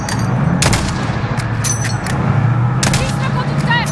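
Gunfire from the Call of Duty: Modern Warfare video game aimed at a pick-up truck, several sharp shots cutting through a steady engine-like rumble and game noise, with a voice talking in the background.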